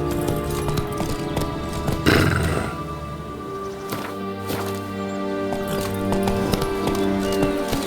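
Roach the horse gallops in The Witcher 3 video game, a rhythmic clip-clop of hooves running steadily throughout, mixed with layered ambient game sound and a brief burst of noise early on.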